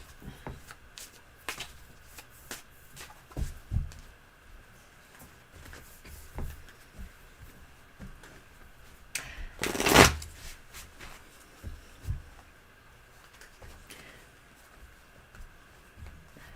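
Tarot cards being shuffled repeatedly, soft riffling and tapping bursts at close range with a sharper snap near the middle, no talking.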